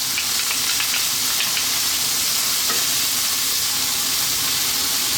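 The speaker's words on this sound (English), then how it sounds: "Stay on this high heat for another 2 to 3 minutes, stirring all the time." Sauce of fish sauce, dark soy and oyster sauce stir-fried over high heat in a pan for a whole fried sea bass, a steady loud sizzle and hiss with scraping stirring strokes throughout, no voices.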